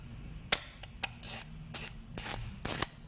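A screw-on cap on a vintage Triumph monoblock carburetor is turned off, giving close, dry ratcheting and scraping rasps in short bursts with no talking.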